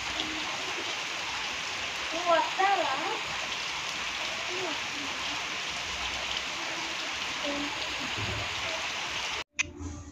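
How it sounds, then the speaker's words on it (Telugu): Heavy, nonstop rain in Eluru hisses as a steady, broadband wash from start to finish, with a voice briefly heard over it partway through. "ఏలూరులో ఎడతెరిపి లేకుండా వర్షం అయితే పడుతుందండి"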